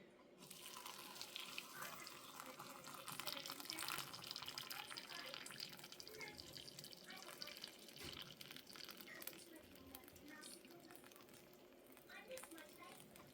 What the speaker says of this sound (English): Got the water going right here.